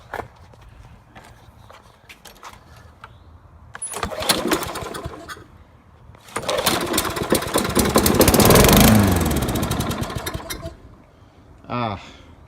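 A 2005 Toro lawn mower engine, fitted with a used spark plug and primed with carb cleaner, sputters through start attempts in bursts, then catches and roars loudly for several seconds before dying, with a brief late burst.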